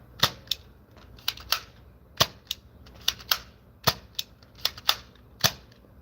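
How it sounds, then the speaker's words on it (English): A Nerf foam blaster is primed and fired over and over, giving sharp plastic clacks and snaps in an irregular rhythm. Each action is close and crisp against a quiet room, and no one speaks. "Same thing, prime it like that, pull the trigger to fire."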